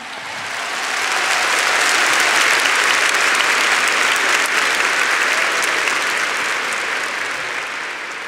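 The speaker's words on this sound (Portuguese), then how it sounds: "Often you Brazilians clap before I finish the sentence." A Brazilian audience at a spiritual retreat talk breaks into sustained applause that swells in over the first second, holds loud and thick, then eases slightly toward the end.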